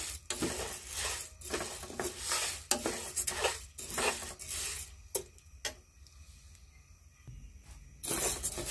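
Mung dal being dry-roasted and stirred in a pan, a spoon scraping and rasping against the metal in repeated close strokes with brief clinks, the scraping pausing near the end before resuming.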